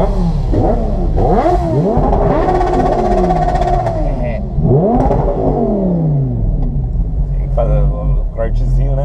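Loud motorcycle engines revving with rising and falling pitch sweeps, several bursts in a row, with voices talking over the roar.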